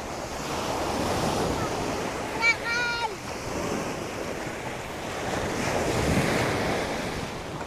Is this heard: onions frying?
no